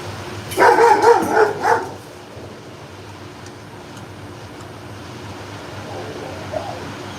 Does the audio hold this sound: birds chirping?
no